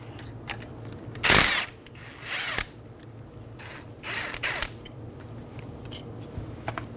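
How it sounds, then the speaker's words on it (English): A ratchet with a 14mm socket works on the front brake caliper bolts of a 2007-2011 Toyota Camry, giving a few short clicking bursts and metallic clanks, close and moderately loud, separated by quieter pauses. "Using a 14mm socket, remove the caliper bolts."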